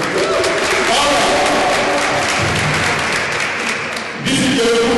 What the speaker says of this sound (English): Please, give them a round of applause again one more time.